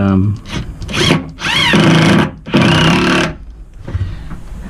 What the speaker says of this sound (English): Let the drilling commence.